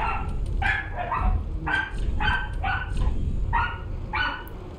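A dog in the video game Dark Souls 3 barks and yips in a rapid series of about nine short barks over a constant low rumble, fairly close and loud.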